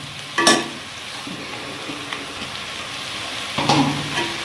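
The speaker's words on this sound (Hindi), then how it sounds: "और अब इसे नीचे भी नहीं लगने देना और साथ साथ इसे मिक्स करते जाना।" Rice being stirred and fried in a pan for Chinese fried rice, with soft sizzling throughout and two sharper scraping clatters of the spoon near the start and end.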